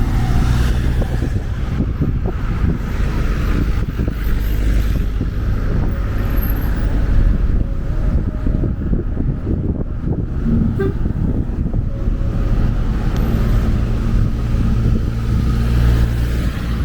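A car moves along a busy street in May Pen, Jamaica. A loud, close engine rumbles steadily under continuous traffic noise, and short horn toots cut through now and then.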